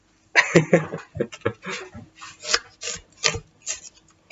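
Knife chopping and slicing an onion bulb for Russian cabbage soup, irregular close scraping and rasping strokes in quick bursts with short pauses between them.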